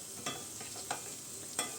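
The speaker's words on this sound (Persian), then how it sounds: "همون تابه که مرغ سرخ کدی بید پیاز اونجا تفت بدید" Onion and tomato paste sauté in the same frying pan used to fry chicken, with a soft steady sizzle under three sharp spoon clacks against the pan.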